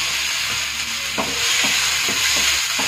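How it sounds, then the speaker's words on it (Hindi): Chopped onions frying in ghee in a pan: a steady bright sizzle, close and loud, with several spoon scrapes against the pan in the second half, no voices. "अभी हमने जो ये प्याज लिए हैं, ये चॉप किए हुए हैं, ये डाल देते हैं।"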